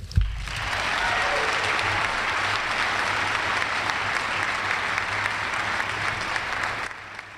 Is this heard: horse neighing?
no